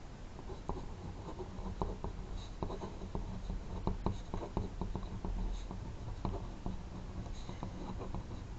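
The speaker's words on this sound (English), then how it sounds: "Make sure you are drawing with a sharp pencil." A sharp pencil drawing on paper makes a soft, continuous scratching with short repeated strokes. It is close and quiet, with no other sounds.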